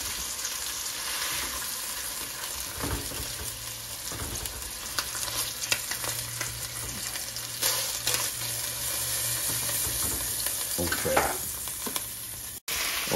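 Pork chops browning in a frying pan, a steady close sizzle and fry running throughout, with occasional stirring and utensil scrapes over the crackle.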